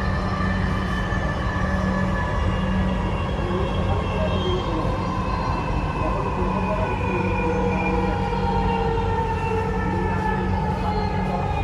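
Ride aboard a metro train bound for Uttara North, a steady loud rumble of the moving carriage with sustained tonal hums and whines filling the whole stretch without pause.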